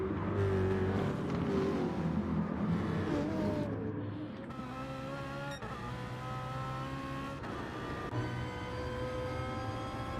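Gr3 race cars in a racing video game at the Nurburgring, engines screaming and climbing in pitch through repeated gear shifts, a continuous close mechanical wail.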